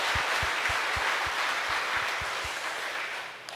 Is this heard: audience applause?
yes